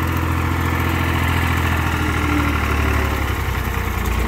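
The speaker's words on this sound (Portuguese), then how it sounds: "E a gente tá passando agora essa roçadeira com trator agora, antes da chuva também." A tractor running a rotary mower to cut winter green-manure cover on a farm roars steadily and loudly up close, a constant heavy engine drone with no pauses.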